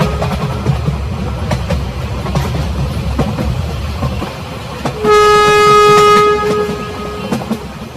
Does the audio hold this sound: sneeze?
no